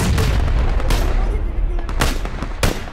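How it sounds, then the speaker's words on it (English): A grenade blast in the battle-royale shooter PUBG sounds as a dense, booming burst amid sustained gunfire-like crackle and low rumble, with a few sharp broadband cracks spread across the few seconds. "He threw a grenade."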